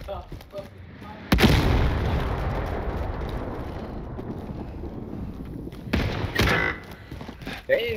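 Heavy incoming gunfire and explosions in the Warzone video game: a loud blast opens a sustained roaring barrage, with a second burst near the end and game dialogue heard over the din.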